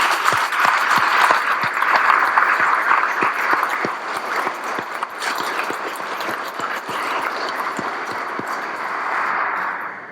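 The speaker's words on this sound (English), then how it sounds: "Let's give them all a round of applause" Audience at a women veterans appreciation event applauds the steering committee, steady crowd clapping with distinct individual hand claps popping through, sustained for about ten seconds before tapering off.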